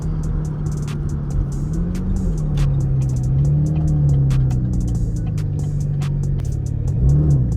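A V6 Camaro fitted with an 80mm throttle body idles with a low, steady rumble and brief pitch rises from light throttle blips, with sharp clicking ticks over the engine.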